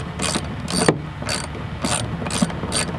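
A ratchet clicks in short repeated bursts while bolts are tightened during reinstallation of a car's intake resonator, the close, crisp pawl clatter coming in even strokes with brief pauses between them.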